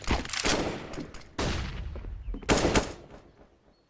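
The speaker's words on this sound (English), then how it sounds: "Ego is taking down that shot with the last few bullets of his AK" Bursts of AK rifle fire in a video game, with three separate volleys of rapid shots spread across a few seconds and tailing off into quieter scattered pops at the end.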